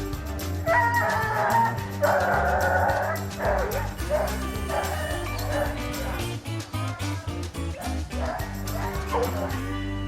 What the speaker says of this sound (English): Turn a couple dogs out and see if they can line it out.